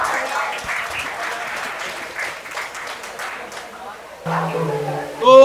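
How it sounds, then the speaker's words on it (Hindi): Audience applause at a poetry stage event, dense and steady clapping from a crowd that fades as a voice begins speaking near the end. "तो उनके लिए भी जोरदार तालियां होनी चाहिए।"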